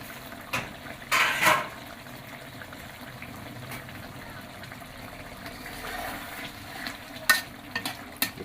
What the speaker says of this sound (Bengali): এখন টমেটোগুলো দিয়ে দিচ্ছি